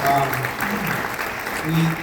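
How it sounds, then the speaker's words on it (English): Audience applauding after a presentation on local hazard mitigation governance, moderate clapping with voices talking over it. "Give a round of applause here for the presentation, I think."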